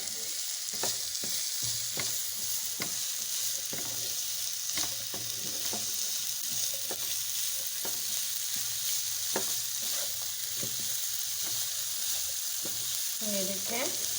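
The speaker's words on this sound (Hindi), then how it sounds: "इसको हल्का सा सौटे इतना करेंगे जो प्याज का जूस है वो हल्का सा ख़त्म हो जाए" Onions sautéing in a pan for a panini sandwich filling give a steady close sizzle with repeated scraping stirs, and no one speaks.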